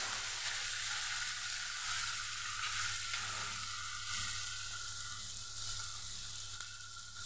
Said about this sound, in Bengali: একটা টমেটো কুচি দিয়ে আমি ভালো করে নেড়ে চেড়ে নেব।